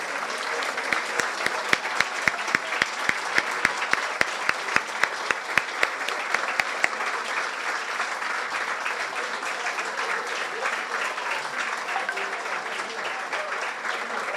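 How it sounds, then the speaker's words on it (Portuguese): An auditorium audience at a university ceremony conferring an honorary doctorate breaks into long, loud, sustained applause, with sharp regular claps standing out in the first half before blending into a dense, even wash of hands. "Vamos aplaudir a doutora honoris causa."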